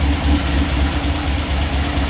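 A 1967 MGB engine idles hot at close range, a steady, even mid-low rumble filling the whole moment with no talking.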